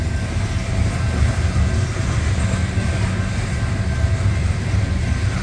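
A CSX coal train with two locomotives up front and a likely rear distributed-power unit labors up the East Plane grade in notch 8, giving a loud, steady, close diesel rumble with no speech.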